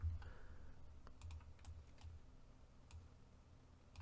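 Fingers tap on a computer keyboard in a short, irregular burst of quiet keystrokes, close and alone.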